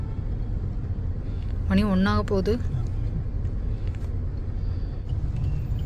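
Low steady road rumble of traffic heard from inside a car, a constant muffled drone beneath a man's brief speech.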